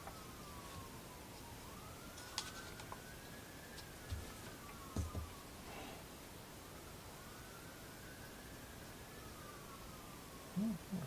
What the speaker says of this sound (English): There's a siren going off outside.